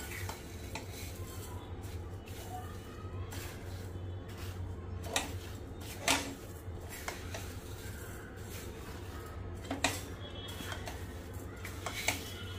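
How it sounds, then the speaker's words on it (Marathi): Sugar and gooseberries are stirred in a pan on a gas stove: a steady scraping swirl with soft sizzling beneath and occasional sharp utensil knocks against the pan's side, close and moderately loud. "गॅस ऑन करते आणि हे मिक्स करून घेते"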